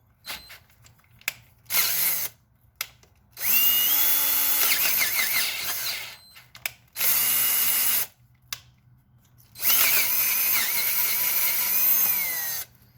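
Pneumatic air drill at work on a 2003 Toyota Tundra 4.7 V8, running in several loud bursts of whirring and hissing separated by pauses, close by with no talking.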